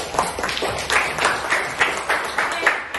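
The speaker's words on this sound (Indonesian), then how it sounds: "beri aplaus dulu" Classroom applause from a group of students, a run of rapid clapping bursts with a steady rhythm, fairly close and lively, with some background chatter mixed in.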